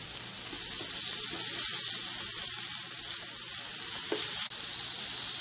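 Persian barg chops fry in a pan with a steady, soft sizzle and faint hiss running evenly throughout, with a small clink near the end.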